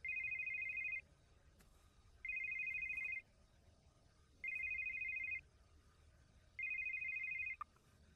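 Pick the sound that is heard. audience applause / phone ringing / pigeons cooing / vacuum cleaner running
phone ringing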